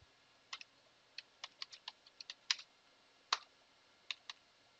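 Keys on a computer keyboard are tapped in irregular bursts of quiet, close clicks, with a couple of firmer presses standing out in an otherwise quiet room.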